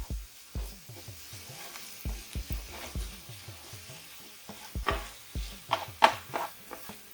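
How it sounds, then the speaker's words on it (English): Seasoned ground turkey sizzling quietly in a skillet while a spoon scrapes and stirs it in repeated short strokes, with soft clinks near the end. "Let's stir this up some more."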